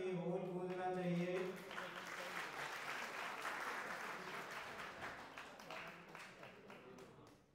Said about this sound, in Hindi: तालियों से ये होल गूंजना चाहिए।